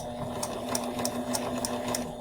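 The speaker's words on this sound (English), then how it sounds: "you're going to take a few stitches, and you're going to stop." A sewing machine runs a short burst of stitches, a steady mechanical hum with evenly spaced needle clicks, close and moderately quiet, with no talking.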